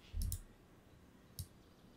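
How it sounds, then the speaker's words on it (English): Keyboard arrow keys tapped while moving interface elements in Adobe XD 2020, giving two quick soft clicks early on and a single click later, faint and close against a quiet background. "I'm moving these guys with my arrow keys"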